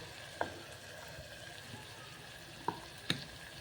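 Stuffed bitter gourd frying gently in masala, a low soft sizzle broken by three sharp clinks or pops, faint and with no talking.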